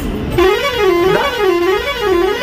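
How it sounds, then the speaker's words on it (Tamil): A loud vehicle horn blares repeatedly in a wavering, warbling tone, close by amid road traffic. "இப்போ இவ்வளோ ஹார்ன் அடிக்கிறாங்க கேட்குதா இந்த ஹாரன் சத்தம்"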